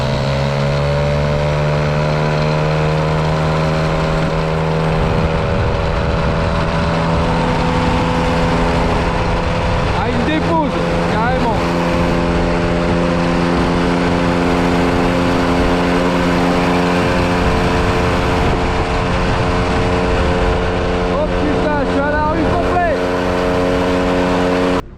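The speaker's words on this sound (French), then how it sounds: "on va pouvoir vous faire un départ arrêté, une petite course pour comparer Peugeot et Moto Bécane" Peugeot and Motobécane mopeds race from a standing start, small two-stroke engines idling then revving up with rising whine, loud and close, with someone talking over them at points.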